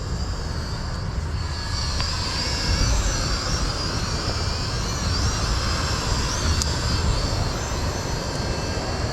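A DEERC M10 beginner drone flies nearby with a steady, whining propeller buzz that holds level and loud throughout, over a constant background rush.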